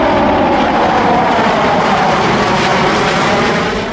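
A Sukhoi Su-57 fifth-generation stealth fighter jet flies overhead, its engine roaring loud, broad and steady throughout, easing slightly toward the end.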